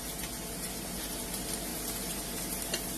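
Onions cooking on a grill for a peach burger give a steady, faint hiss and sizzle, continuous and even, with no talking.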